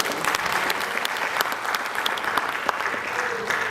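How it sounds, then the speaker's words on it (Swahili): Applause from an audience at a digital literacy programme event at a Nairobi cinema, a dense, steady clapping that fills the whole stretch, loud and close, with no clear speech over it. "Pigeni makofi tena,"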